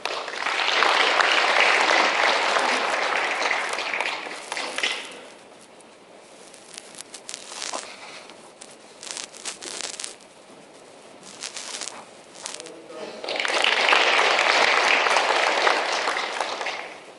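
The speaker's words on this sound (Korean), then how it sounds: "큰 박수 모시겠습니다" An audience at a Korean forum on shared growth applauds as a former lawmaker is welcomed to speak. Loud, dense clapping opens the clip, fades to scattered claps and room noise, then swells again.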